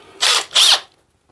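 A power drill fitted with a countersink bit bores into wooden stair boards during a squeaky-stair repair, giving two loud, close whirring bursts with a short pause between them, then silence.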